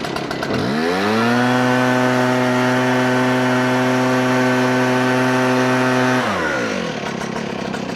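A Husqvarna 590 BTS or Stihl BR800C backpack leaf blower engine revs up, roars steadily at high throttle for about five seconds, then winds down, loud and close.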